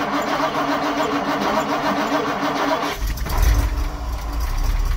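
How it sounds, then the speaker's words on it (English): A 1960 Ford Thunderbird convertible, parked at a farm auction in South Dakota, is started up. Steady loud mechanical rumble at first, then a sharp catch as the engine fires into a deep throaty run close by. "gonna go ahead and fire this Thunderbird up"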